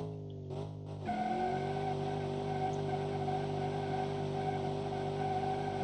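A Strike 453 Mopar muscle car in a video game roars up to a steady, droning engine note after a brief lull. Tyres squeal in a sustained skid, loud and close throughout.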